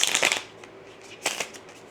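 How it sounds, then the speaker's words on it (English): Oracle cards are shuffled by hand in two short riffling bursts, close and crisp, with a quiet pause between them. "That's how I normally like to shuffle"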